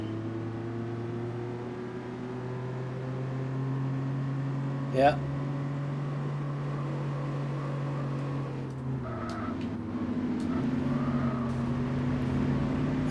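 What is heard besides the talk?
V8 car engine roaring in Gran Turismo 4 video game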